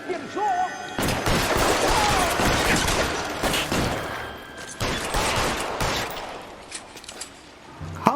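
Heavy gunfire in a 1940s Los Angeles crime game, loud dense bursts of shots and booming blasts in an ongoing firefight, briefly easing and then returning with scattered reports.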